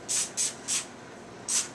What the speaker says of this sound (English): we always use the olive oil Pam,